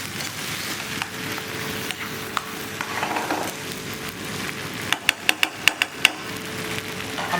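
Chopped tomatoes and garlic get stirred in a pan in a cooking school kitchen, a soft low sizzle under scraping, followed by a quick run of sharp utensil clicks and taps against the pan near the end.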